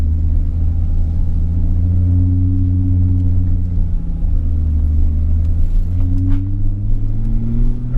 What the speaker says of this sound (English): The old exhaust sounds nice as well.